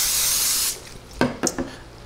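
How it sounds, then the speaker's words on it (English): Cooking spray hisses onto a foil-lined aluminum oven pan in one long, close, steady burst, followed by a few brief clatters and knocks. "I'm gonna spray it really good."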